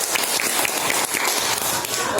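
A classroom group claps for group A, a dense, steady patter of many hands applauding throughout, fairly close and even in loudness.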